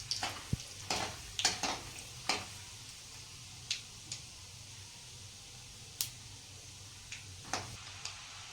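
Peanuts roasting in a small amount of oil in a pan, the first step of making batata poha. Sharp, scattered crackles and pops break out irregularly over a faint, steady sizzle, close and fairly quiet, with no voices.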